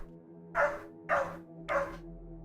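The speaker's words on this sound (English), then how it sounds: "He's got such a loud bark." A dog gives three loud, sharp barks, evenly spaced about half a second apart, close to the microphone against a quiet background with a faint steady hum.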